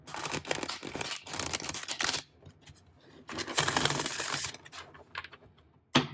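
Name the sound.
shuffling a new tarot deck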